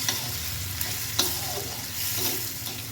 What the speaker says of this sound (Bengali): এখন এই পেঁয়াজের মধ্যে দিয়ে দেব টমেটো বাটা। ভালো করে কষিয়ে নেব